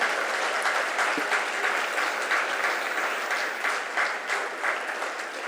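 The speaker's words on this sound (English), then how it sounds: "I think that deserves a bigger round of applause" An audience at a hospital inauguration ceremony claps steadily and warmly, a sustained wash of many hands with no voices over it.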